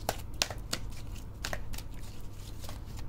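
Deck of tarot-style cards being shuffled by hand: a steady papery riffle with several sharper flicks and slaps, close and fairly loud, no speech over it.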